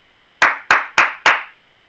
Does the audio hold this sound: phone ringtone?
no